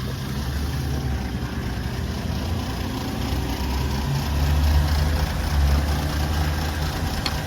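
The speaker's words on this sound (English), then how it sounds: "So I just started the car. Car is running right now." Engine of a KIA Sorento V6 idling steadily after being started, a close, continuous low rumble with no voices.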